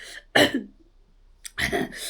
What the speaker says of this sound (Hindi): इसीलिए खांसी हो रहा है मेरे को